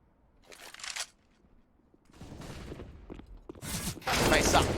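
Rifle fire rings out in a Counter-Strike match on the Nuke map, coming as short bursts: a sharp burst near the start, rattling shots midway and a loud sustained volley at the end, with a caster's voice running over the action.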